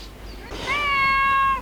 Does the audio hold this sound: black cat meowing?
yes